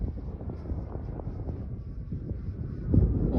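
Gusty wind buffets the microphone at an RC flying field, a low rumbling roar that rises and falls in irregular gusts and swells loudest near the end.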